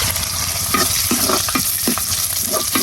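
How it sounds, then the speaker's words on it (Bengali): Spinach greens fry in a pan while being stirred, a constant close sizzle broken by repeated scraping strokes of the spoon at a steady rhythm, with no voices. "পালং শাক ঘাটা"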